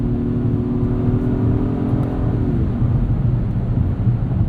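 A 2022 Acura MDX A-Spec SUV with a V6 accelerates hard, heard from inside the cabin as a loud, steady engine drone with a rising whir that shifts pitch partway through.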